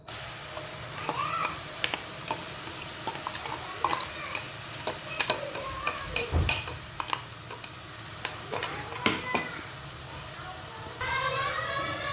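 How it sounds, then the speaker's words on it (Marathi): Masala paste frying in oil in a pan for a rustic village-style chicken dish, with a steady sizzle and repeated scraping stirs of a spoon against the pan, fairly quiet and close throughout. "मसाला चांगला परतून घ्यायचा आहे आपल्याला."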